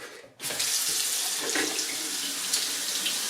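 Tap water runs steadily into a sink while an original Xbox part is washed, with a loud continuous splashing gush that starts abruptly after a brief quiet moment.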